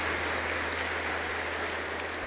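Congregation applauding inside a church sanctuary during Easter Sunday Mass, a steady, dense wash of clapping that continues evenly throughout with no talking over it.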